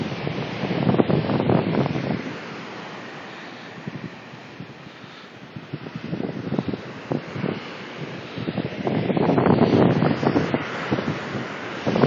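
Atlantic Ocean surf breaks against the shore amid heavy gusts of wind buffeting the microphone, with louder rushing swells at the start and near the end and a calmer lull in between.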